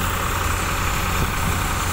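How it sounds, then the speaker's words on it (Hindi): A Farmtrac 60 tractor with a 60 HP, three-cylinder diesel engine runs steadily at a mustard threshing job, its loud, close, unbroken drone and rumble filling the air. "ये फार्म ट्रैक 60 ट्रैक्टर है, जो कि 60 एचपी की कैटेगरी का ट्रैक्टर है और 3 सिलेंडर के साथ आता है"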